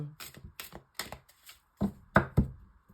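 Tarot cards of the Light Seer deck are handled and shuffled in a series of crisp riffling bursts and soft taps, close and fairly quiet, with a few stronger flurries toward the end.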